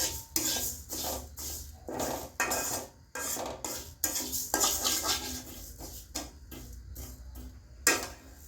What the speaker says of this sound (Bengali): এই মুগের ডাউলটা একটু ভাজা নেই,